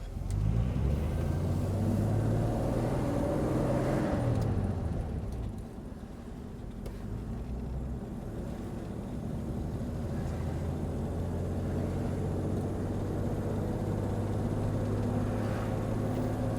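A 1953 Nash Healey Le Mans Coupe drives along with a loud, steady engine drone and road rumble heard from inside the car, easing briefly before holding a constant cruising note.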